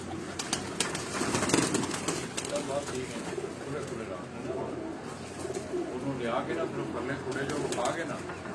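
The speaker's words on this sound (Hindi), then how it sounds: "चौधरी अब्दुल बासित साहब और जी ब्रीडर कबूतरां तुहानूं शौक करा रहे हैं जी।" Breeder pigeons on a rooftop coo steadily in soft, repeated bursts, with someone talking over the birds throughout.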